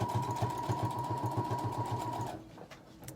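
A sewing machine runs steadily, stitching the side seam of a fabric face mask with a fast, even motor whir that stops abruptly near the end, leaving quiet room tone.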